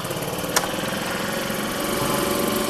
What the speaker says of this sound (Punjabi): ਤੇ ਫੋਰਸ ਸਟੋਕ ਇੰਜਨ ਹੈ ਜੀ